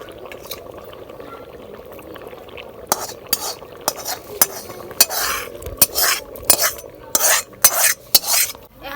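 Chicken meat going into a pot of boiling khichuri with rice and ginger, heard as a simmering bubble that gives way to sharp utensil clinks against the pot, scraping and stirring, close and fairly loud.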